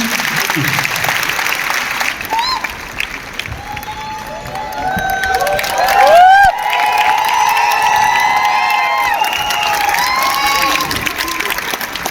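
A large audience in Talkatora Stadium applauds loudly and continuously, a dense wash of clapping with scattered cheers and voices that swells near the middle.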